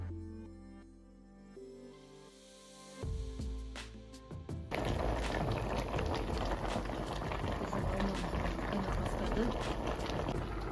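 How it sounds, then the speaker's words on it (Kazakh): Apples covered with water come to a boil on low heat for jam, a steady dense bubbling that swells after a quieter start and carries on loud and close. "үстіне су құйып, баяу отта қайнататын боламыз"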